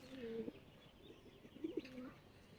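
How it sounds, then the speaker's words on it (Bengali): Pigeons coo in two short, low, throaty bursts, one at the start and another after a pause, while the flock feeds nearby; faint chirps and rustling fill the background. "আমার বাকি কবুতরগুলো এখানে খাইতেছে, খাবার দিছি"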